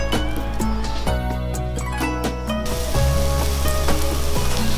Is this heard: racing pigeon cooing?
no